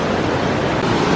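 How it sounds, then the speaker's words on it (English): Silver River Falls waterfall, a steady loud broadband rush of falling water with no break, heard up close on a canyon hike. "We're checking out the waterfall."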